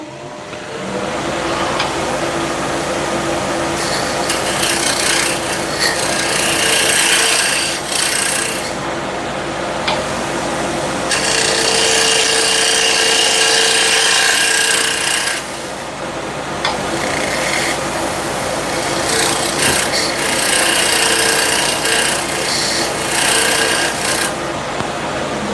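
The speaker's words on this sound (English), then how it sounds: "let's see if I can switch to asymmetric curved scraper right here" An asymmetric curved scraper is drawn repeatedly across a wood surface, making loud, continuous raspy scraping in long strokes with short pauses between passes, close up and without talk.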